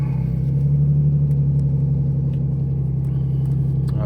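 A 2004 Lexus IS300 drift car idles steadily after a cold start, its engine giving a loud, even, low rumble throughout with no revving and no talk.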